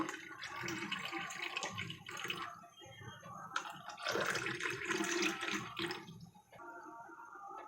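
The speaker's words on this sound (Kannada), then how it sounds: "ಇವಾಗ ಇದಕ್ಕೆ ನೀರನ್ನ ಹಾಕೊಂಡಿನಿ" Water poured into a container holding a sugar-free juice mixture at home: a soft, splashing, gurgling stream that swells and eases in a few surges, fairly faint, with a voice talking at times.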